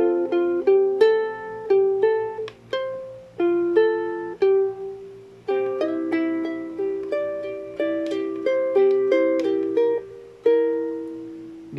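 Ukulele strummed chord by chord through a descending 7-5-3-1 transition in a song, each bright strum ringing and decaying in a steady, unhurried rhythm, close and alone.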